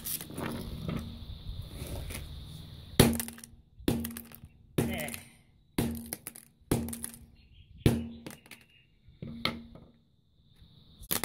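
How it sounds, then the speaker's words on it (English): A Samsung Galaxy S II being wrecked, its back cover cracking loose as the body bends, heard as a run of about eight sharp cracking thuds spaced roughly a second apart, each fading quickly. "Oh look, the back's coming off."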